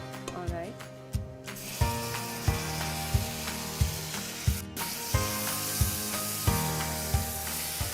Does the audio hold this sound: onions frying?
yes